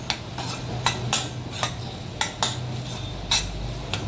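A spatula scrapes and taps against a pan as spiced masala for a mixed-vegetable bhaji is stirred in oil over low heat. There are about ten sharp, fairly quiet clicks in an uneven rhythm over a low background hum.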